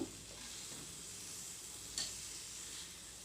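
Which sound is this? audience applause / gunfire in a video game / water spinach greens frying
water spinach greens frying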